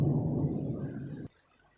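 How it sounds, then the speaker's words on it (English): Heavy, low rumbling thunder rolls loudly and steadily, then cuts off abruptly near the end, leaving near silence, with no voices. "I hope you are enjoying this thunder sound"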